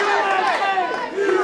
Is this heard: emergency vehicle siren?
no